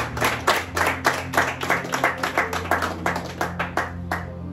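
Congregation clapping hands together in a steady, rhythmic beat during a worship and praise service, loud and close, with a low musical hum beneath and no speech.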